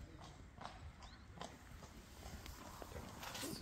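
Horse hooves clip-clop in a steady walking rhythm on a hard surface, fairly close, over a quiet outdoor background, in the village of Dähre, Germany.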